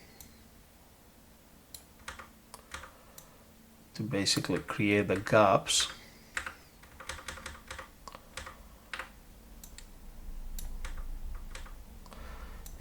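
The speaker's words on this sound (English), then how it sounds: "I'm using the arrow keys on my keyboard" Arrow keys on a computer keyboard are tapped in scattered single clicks, close and crisp, with a person talking briefly partway through.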